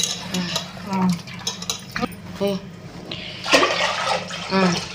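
A spoon stirs and scrapes around a pot of rasam with light liquid sloshing and clinks, while someone talks over it.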